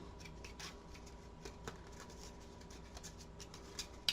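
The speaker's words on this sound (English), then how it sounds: "I'm going to shuffle my Fragment deck here." A deck of cards for a board game is shuffled by hand, giving soft, quiet papery flicks and riffles in an irregular patter with a few sharper snaps, close and alone.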